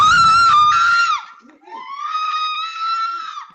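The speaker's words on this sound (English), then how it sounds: "It's this sound of Jeff Pettiford's wife, Michelle, and his daughter screaming for their lives" A woman and her daughter scream in terror for their lives, with two long, high, strained screams separated by a brief gasp, loud and close.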